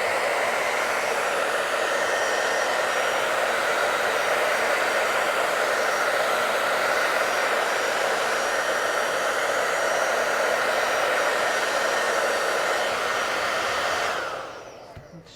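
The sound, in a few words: hair dryer blowing on wet paint on paper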